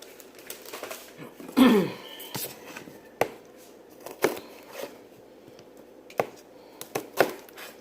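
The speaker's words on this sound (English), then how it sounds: "just slice these in thin circles" Knife slicing vegetables into thin circles for pan searing with onions in a cast iron skillet: a handful of sharp, separate cuts at an uneven pace, fairly close, with a louder chunky chop near the start.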